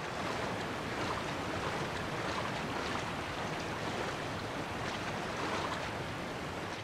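Rushing river water in the video game The Last of Us, a steady broadband wash with a windy, surf-like roar that holds evenly throughout with no talk.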